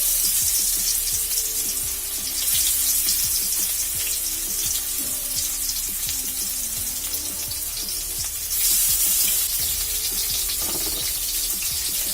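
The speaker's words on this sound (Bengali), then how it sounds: "এখন লবণ আর হলুদ মাখানো মাছগুলো আমি এর ভিতরে দিয়ে দেবো।" Fish coated in salt and turmeric fry in hot oil, giving a steady, dense sizzle with a bright hiss that swells louder partway through.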